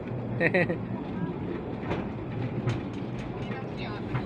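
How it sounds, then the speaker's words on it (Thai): A tram climbs the hill to Wat Khao Sukim with a steady rumbling roll and faint clatter, heard from on board, while people talk over it. "รถรางรถรางขึ้นดอย วัดเขาสุกิม กล้จะถึงละ"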